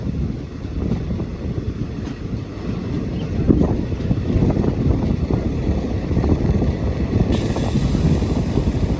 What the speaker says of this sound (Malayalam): അപ്പോൾ നമ്മളിത് പട്ടിക്കാട് റെയിൽവേ സ്റ്റേഷൻ വന്ന് കയറുകയാണ്.